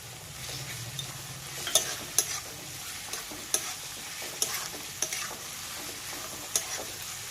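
Grated ginger and garlic sizzle with lightly browned onions in a pan as prawns are readied, a steady frying hiss broken by sharp scraping clicks of stirring, close and alone.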